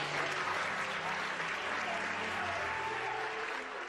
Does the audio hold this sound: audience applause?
yes